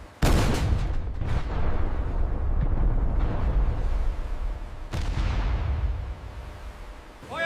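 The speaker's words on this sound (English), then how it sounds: "Authorized to fire tube 1." A submarine torpedo is fired from tube 1, sounding as a sudden loud blast followed by a sustained roaring rush that fades, then a second sharp boom near the end.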